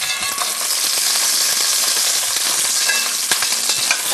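Pork loin rack searing skin-side down in a hot pan, a loud, steady, dense sizzle and spatter continuing without pause, close up and with no voices.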